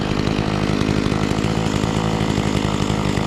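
A Makita chainsaw runs loud and close at steady high revs, a continuous buzzing engine drone with a rapid chain rattle and no pauses.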